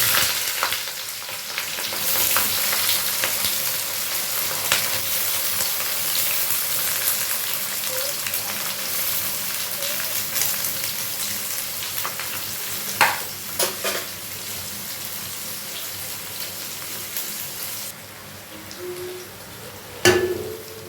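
Onion with whole cumin and coriander seeds sizzles steadily in a hot pan for Kerala-style fish curry, with a few scrapes and clinks from stirring and no talking.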